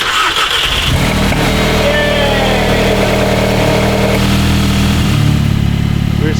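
Volkswagen Jetta engine with no intercooler and no boost running loud and close while the car drives, a steady throaty drone that shifts in pitch as it pulls away.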